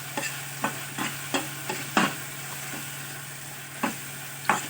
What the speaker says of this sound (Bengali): এবার এটা নাড়াচাড়া করি